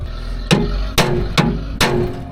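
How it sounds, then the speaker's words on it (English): Four sharp metallic hammer blows strike a crimping tool on a copper lug, each a loud, ringing impact spaced about half a second apart. "Hammer it. Just once, one good whack."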